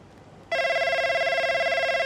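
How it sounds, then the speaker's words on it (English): An 80s-style office telephone ringtone in the F1 25 racing game, a sudden loud electronic trilling ring that starts abruptly and repeats in a fast warbling pulse; no talking. "It sounds like I said, an 80s telephone in a physical office."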